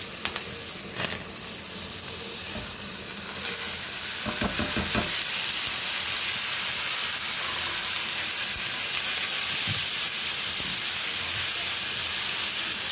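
Whole red chillies frying in a pan with a little turmeric and spice powder, a loud continuous sizzle and hiss after a few stirring scrapes and clatters early on, with no voices.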